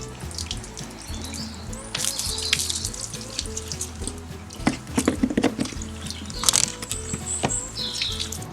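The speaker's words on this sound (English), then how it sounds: "this is how you put water in the RV" Water runs into an RV's tank at a campground hookup in England: a continuous gurgling, splashing flow close by, with bursts of sloshing and a few knocks and clanks of the hose and fittings, over a low steady hum.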